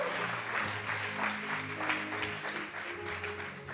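Church congregation clapping steadily together, a dense, continuous applause filling the room with a few faint voices mixed in.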